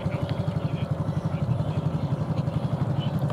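A Honda Super Cub idles with a loud, rapid, popping exhaust pulse, steady and close, the rough blatting of an open pipe missing the outer part of its baffle.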